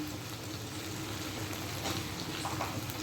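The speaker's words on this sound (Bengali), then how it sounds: "একটুখানি জল দিয়ে দিলাম" Water is added to Dry Dragon chicken frying in a pan, giving a steady soft hiss and sizzle of bubbling liquid, faint and continuous, with no voices.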